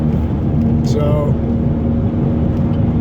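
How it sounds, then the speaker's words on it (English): A car with a worn wheel bearing drives over rough, badly built roads, giving a loud, steady droning hum over constant road rumble that holds unbroken from start to finish. "Sorry about the loud noise. I think I need to throw in a new wheel bearing."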